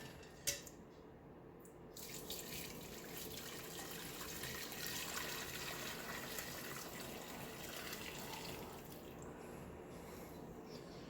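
Homemade chicken broth poured and strained into a soup pot, a faint, steady liquid stream running for several seconds, with a small clink at the start.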